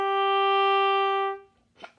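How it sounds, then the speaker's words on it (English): Oboe sounding one sustained note with a clean, crisp tongued start, steady and close for over a second before it stops, followed by a brief soft breath or mouth noise. "I'm going to actually use my tongue for most instances, so it would sound like this."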